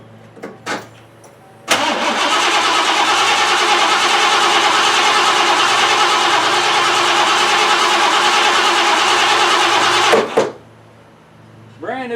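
A 1988 Lincoln Town Car with a new solenoid cranks loudly and continuously for about eight seconds, a harsh steady grinding that cuts off abruptly, with brief clicks just before and after.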